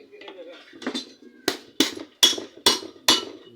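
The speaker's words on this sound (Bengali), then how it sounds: "আমি কাটিং প্লাস দিয়ে আর কি বাড়ি দিচ্ছি।" Cutting pliers strike the back part of an auto-rickshaw motor during servicing, a series of about six sharp metallic knocks, the later blows louder and evenly spaced, close to the listener.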